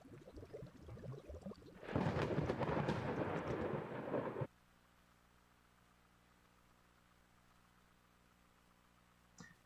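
Thunder sound effect in a Godot game: one loud, broad rumbling crash of about two and a half seconds that cuts off abruptly into a low, steady hum, with no talking.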